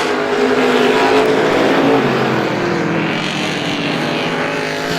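Race cars roaring around Star Speedway during a strictly feature event, a loud sustained engine drone with shifting pitch as cars pass, continuous and close.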